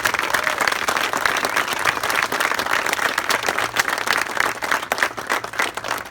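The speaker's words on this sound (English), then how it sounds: "Let's give everyone a great round of applause." A park crowd at a ribbon-cutting ceremony in Gaithersburg, Maryland, breaks into sustained applause, dense overlapping clapping from many hands, fairly close and loud throughout.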